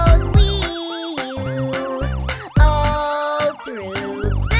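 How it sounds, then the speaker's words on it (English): A fire truck siren wails in a rising and falling pattern over upbeat children's song music, loud and steady, repeating through the whole stretch. "The siren on the fire truck goes wee-you"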